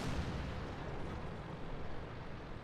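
A tank's main gun fires in an armoured combat video game, a booming blast at the start trailing into a rumbling decay and low battlefield din.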